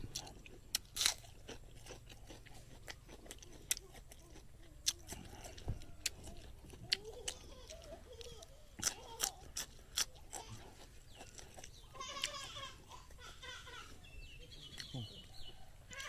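Close, crunchy chewing of fatty, sinewy pork in a very spicy southern Thai pineapple pork curry with rice noodles, with repeated bites and clicks scattered over a noisy outdoor background.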